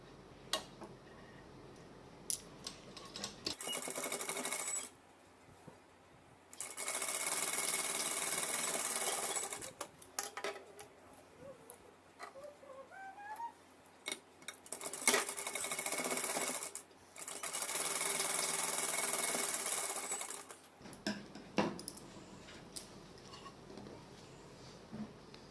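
Sewing machine stitching the side seams of a front slit gown, running in three long steady bursts separated by short pauses, close and fairly loud with no talk.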